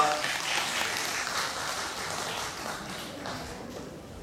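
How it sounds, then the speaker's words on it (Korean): Audience applause at a Korean sijo recital, a continuous wash of clapping at moderate level that holds steady and tapers slightly toward the end. "큰 박수 부탁드립니다."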